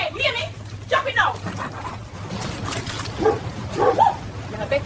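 A dog in a shop gives several short yips and barks mixed with whimpers, fairly close, while someone shouts angrily over it and a low electrical hum runs underneath.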